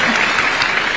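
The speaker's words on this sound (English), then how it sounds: "A round of applause for her." A short, dense burst of audience applause for a woman being honoured at a public engagement, many hands clapping loudly together in a brief wash.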